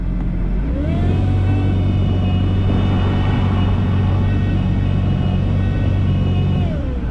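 A Kawasaki Ultra jet ski engine runs steadily in reverse, a loud close droning rumble with a rising whine near the start that holds flat and then falls away at the end.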